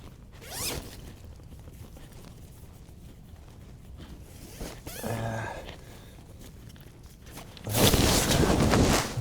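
A tent door zipper with replaced zipper pulls is pulled in a few quick strokes, the last one long and loud, with rustling tent fabric and soft handling noises between.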